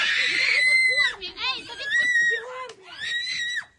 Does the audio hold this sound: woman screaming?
yes